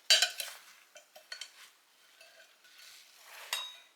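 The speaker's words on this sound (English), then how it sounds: "Let's start stirring these up a little bit." Apple crisp ingredients with an autumn spice mixture stirred in a bowl, a series of light, irregular scrapes and clinks of a utensil against the dish, soft and close, with no talk.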